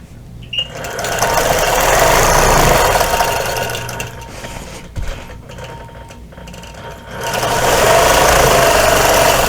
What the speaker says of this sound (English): I'm just doing 3 lines of quilting in each triangle